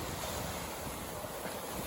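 Sea waves wash against the shore at Kung Wiman beach in Chanthaburi, Thailand, a steady broadband surf blended with gusting wind noise on the microphone, with no talk.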